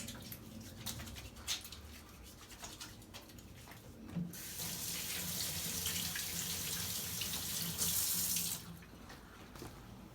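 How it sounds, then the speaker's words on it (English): Hands washed under a running kitchen tap: light splashing and handling at first, then a strong steady gush of water for several seconds that stops abruptly, close by, with no talking. "we have to wash our hands"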